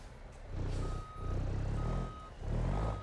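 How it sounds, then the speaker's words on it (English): A heavy road-train truck backs up in the BeamNG.Drive driving game, its reversing alarm sounding three steady beeps at a regular rhythm over a loud, rumbling diesel engine. "But it's just the basics of reversing a truck."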